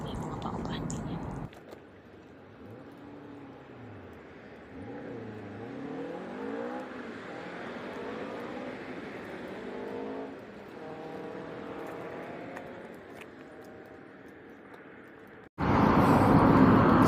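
Cars passing on a highway, heard from inside a moving vehicle as rising and falling engine whooshes and pitch sweeps over a steady road rumble, with an abrupt loud burst at the start and end.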